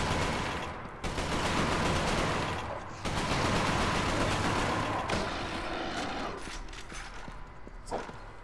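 Gunfire in the video game Resistance: Fall of Man, including sniper rifle shots, comes as loud, dense bursts of blasts and rattling fire separated by brief pauses, continuing through the whole stretch.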